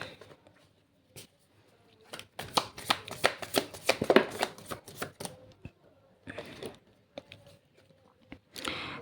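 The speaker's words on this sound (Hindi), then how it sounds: "ये बहुत सारे कार्ड्स है तो मैं इनको लूँगी नहीं।" A deck of tarot cards is shuffled by hand, giving bursts of rapid crisp riffling and slapping card sounds up close, with short pauses between shuffles.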